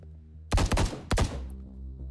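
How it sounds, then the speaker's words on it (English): A rapid burst of close gunshots in the video game The Bookwalker: Thief of Tales, several sharp cracks in quick succession, a short pause, then one or two more loud shots that trail off into a lingering echo over a low ambient drone. "Did I just hear gunshots?"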